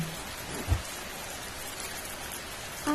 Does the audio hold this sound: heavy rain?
yes